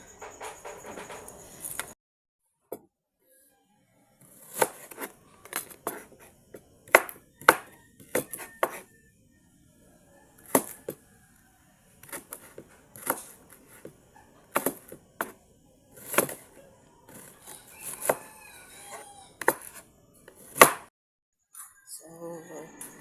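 Onions being chopped with a knife on a board, close by: crisp, irregular bursts of quick chops separated by short pauses, with no talk over them.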